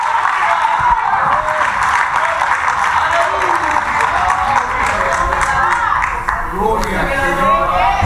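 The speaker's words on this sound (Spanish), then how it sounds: "Dele fuerte el aplauso al Señor" A church congregation applauds during a worship service, with loud, dense, sustained clapping that fills the room while a voice speaks over it.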